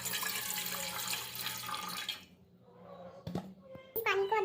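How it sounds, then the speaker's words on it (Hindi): A kitchen tap runs into a cooking pot being filled for rice, a steady splashing stream that stops partway, then clinks and a fresh gush of water, with a voice heard nearby. "चलो अभी इसमें पानी भर लेती हूँ"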